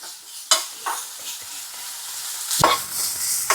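Small onions fry in a pan for a Kerala-style banana-leaf fish dish, with a steady soft sizzle and a few scraping stirs of the spoon close by, and no talking.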